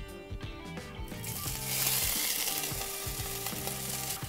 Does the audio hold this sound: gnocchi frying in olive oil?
yes